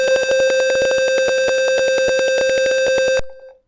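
Simulated Arduino buzzer in Tinkercad sounding a loud, steady electronic tone with rapid pulsing, playing continuously before cutting off abruptly near the end.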